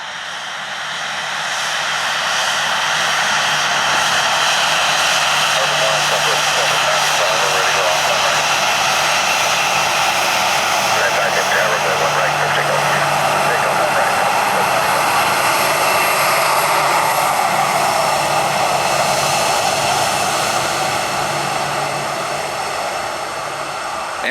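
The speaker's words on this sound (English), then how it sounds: "And some jet blast in your face." Southwest Boeing 737 jet engine blast roaring at extreme close range beside a runway, a loud sustained broadband rush swelling in and holding for over twenty seconds.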